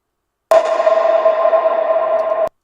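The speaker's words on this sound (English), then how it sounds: "then we have a long bongo, but it's just nothing but a reverb" A single sustained bongo hit rings out alone for about two seconds, carried by a long, even reverb tail before stopping abruptly.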